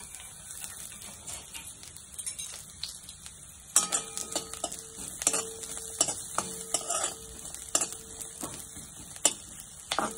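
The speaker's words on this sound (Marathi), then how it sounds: "तर ह्यात अगोदर मी कांदा घेते भाजून." Onion roasting in a pan for a Marathi egg curry, a soft steady sizzle with intermittent scraping and stirring clinks of a spoon against the pan, growing busier partway through, no speech.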